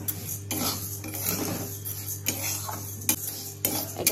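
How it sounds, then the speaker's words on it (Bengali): A spoon scrapes and clinks against a pan while mung dal dry-roasts, a run of repeated close metallic strokes with light rattling between them and no voices. "এটাকে হালকা ভেজে নিই মুগটা।"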